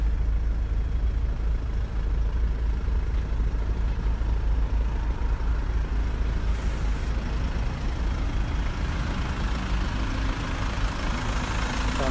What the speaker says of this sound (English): The car has been running since the start of the video, so as you can hopefully hear, there's no knocks, bangs or rattles